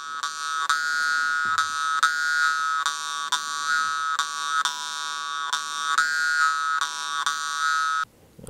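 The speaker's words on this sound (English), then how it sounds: "The vargan has been used for centuries in Yakutia in shamanistic rituals to induce trances and heal sickness." A Yakut vargan, or jaw harp, played close and loud with a steady buzzing twang and droning overtones, pulsing in a regular rhythm for about eight seconds before stopping abruptly.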